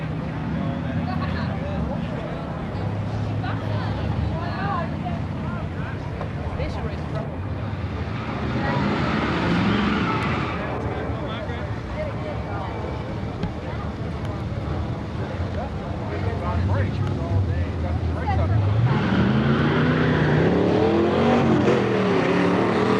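A vintage 1967 Ford Mustang at a drag strip during a high school drag racing event, its engine roaring and revving amid wind noise and crowd chatter, with a loud pass building near the end.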